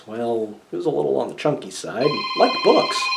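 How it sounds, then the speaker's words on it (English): A phone rings with a steady electronic tone during the second half, partly buried under someone talking continuously close by. "That's my phone."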